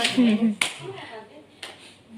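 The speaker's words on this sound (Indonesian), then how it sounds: "kalau refleks motor berarti kita tepuk tangan" Two sharp hand claps ring out during a newborn physical examination to test the baby's startle reflex, each a single crisp crack spaced about a second apart, between spoken instructions.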